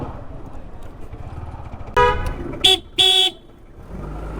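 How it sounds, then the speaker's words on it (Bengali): A Yamaha FZS motorcycle horn sounding in three short, loud beeps that resemble an auto rickshaw's, heard over low background noise. "এফজেডএস এর পিপ পিপ হর্ন মনে হয় অটো রিক্সার মতো হর্ন লাগে"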